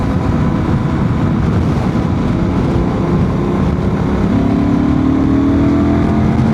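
A Honda Transalp 750 motorcycle engine runs in fourth gear with a steady, loud, close drone that climbs slightly in pitch toward the end.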